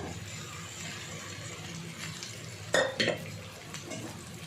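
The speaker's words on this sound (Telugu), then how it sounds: "ఈ ఆలు ఫ్రై మొత్తం రైస్కి పట్టేలాగా మిక్స్ చేయాలి బాగా మిక్స్ చేయాలి" Fried potatoes stirred into rice in a pan for Telugu aloo rice, a soft scraping of a spoon against the pan with a couple of sharper clinks near the end, under a steady background hiss.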